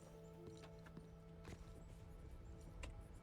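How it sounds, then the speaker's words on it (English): Horse hooves clip-clop in the western video game RedM, several horses moving together, quiet and distant, with a steady patter of hoofbeats and no speech. "A lot of horses."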